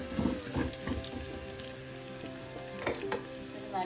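A pinch of asafoetida sautéed in a pan, a soft steady sizzle with several light stirring scrapes and a brief clink near the end, quiet and close with no speech.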